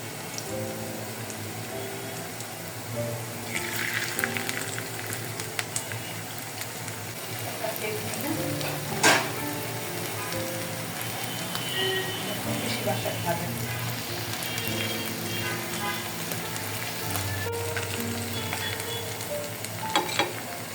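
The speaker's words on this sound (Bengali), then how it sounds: "তেলটা গরম হয়ে গেছে, আমি একটা একটা করে মাশরুমটা দিয়ে দিব তেলের মধ্যে" Mushrooms deep frying in hot oil for chilli mushroom, a continuous close bubbling sizzle that swells as pieces go in, with occasional sharp clicks and spatters throughout.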